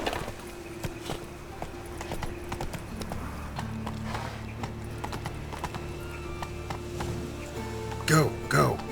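A horse gallops in The Witcher 3: Wild Hunt, a steady rapid clip-clop of hooves close by, with a brief whinny and voices near the end.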